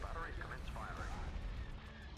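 Torpedo fire in the Star Wars space strategy game Thrawn's Revenge comes through as a dull, rumbling barrage of distant blasts beneath the game's sound effects, quiet and continuous over a couple of seconds.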